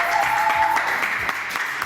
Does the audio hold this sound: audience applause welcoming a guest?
yes